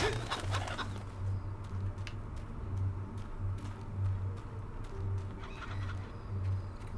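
Chickens cluck in a farm orchard in the video game Fable Anniversary, short repeated calls rising over a steady ambient background with no talking.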